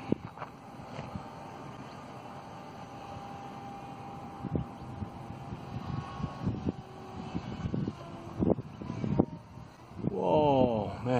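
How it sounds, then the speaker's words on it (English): Wind gusts across an outdoor field where a small RC microlight trike model is being flown, a steady rushing noise with buffeting bursts and a louder gust near the end. "Whoa, man, that wind."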